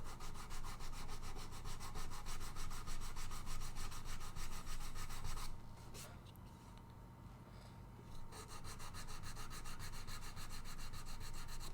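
Sandpaper worked over wood-filled spots on a handmade guitar body: steady, close, rhythmic rubbing strokes that briefly ease off near the middle before resuming.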